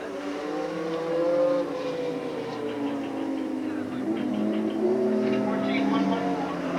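The No. 34 NASCAR Busch North race car lapping Riverside Park Speedway, its engine droning and shifting pitch steadily under a commentator's voice.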